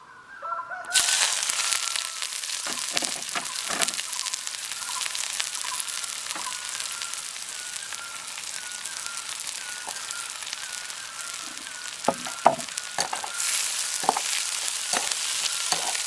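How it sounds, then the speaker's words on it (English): Dried fish and other ingredients stir-frying in pungent mustard oil for a cabbage salad, a steady broadband sizzle running throughout with intermittent scraping clicks and knocks of a spatula against the pan. "Then add all of the ingredients except for the cabbage and stir fry."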